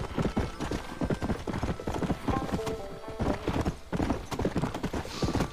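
Rapid clip-clop of horse hooves trotting in the video game Red Dead Redemption, steady and fairly loud, with a faint whinny and some musical tones in the background.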